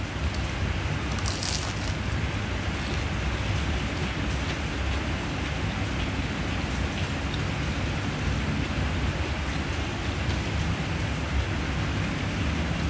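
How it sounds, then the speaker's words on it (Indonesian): Light drizzling rain falls steadily as a soft, even hiss, continuous and moderately quiet throughout, with no voices. "Hujan gerimis-gerimis ya."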